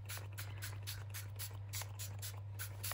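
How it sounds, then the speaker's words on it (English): Quick bursts of spray misted onto card and matte photo paper to move ink, a series of short, soft hissing puffs repeated rhythmically over a steady low hum, fairly quiet and close. "giving it a quick spray."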